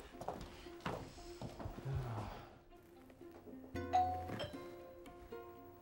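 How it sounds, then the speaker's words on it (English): A doorbell rings out with a couple of bright chiming tones in a quiet room, amid light household clinks. "Honey, the doorbell"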